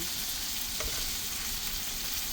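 Corned beef and onion fry in a pan with a steady, close sizzle and crackle and a brief stirring scrape partway through, no voices.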